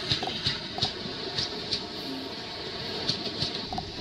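Train pulling into a station in the Indian railway game Indian Crossing 3D, Coromandel Express, a steady low rumble of wheels with repeated faint clanks and rail hiss throughout, fairly quiet and without speech.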